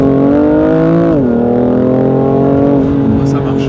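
A BMW M3 F80 Competition in Java Green roars loudly from close by, its engine and exhaust holding a strong steady note, then dipping in pitch as it shifts, while people talk over it.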